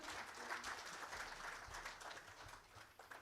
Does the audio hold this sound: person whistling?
no